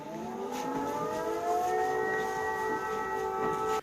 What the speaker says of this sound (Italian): Non so se sentite il suono delle sirene.